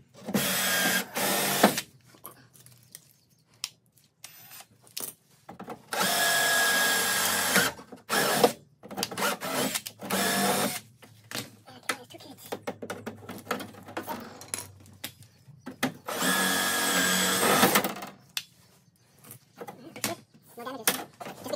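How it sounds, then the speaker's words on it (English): Power drill bit boring into the rear bumper of a Toyota MR2 SW20, heard in several loud bursts of a few seconds each, broken by quieter pauses, clatter and handling noise. "So just be careful when you're drilling this, so you don't over drill it"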